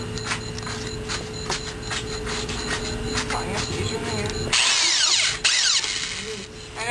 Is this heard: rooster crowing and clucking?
no